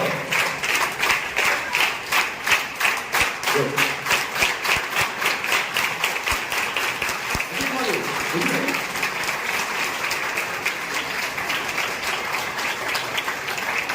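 Steady, close applause from a crowd at a school honouring ceremony for government-school students, dense rapid clapping sustained throughout with a voice faintly underneath.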